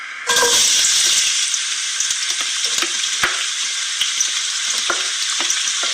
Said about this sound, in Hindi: सबसे पहले तेल में प्याज शामिल करते हैं।